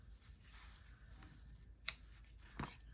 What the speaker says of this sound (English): Let's take our scissors.